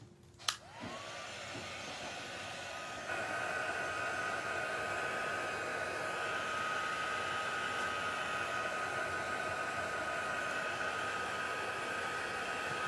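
A handheld dryer blowing on a junk journal page, switching on with a click and a rising whine, then running as a steady, even whoosh with a constant tonal hum for over ten seconds, near and alone.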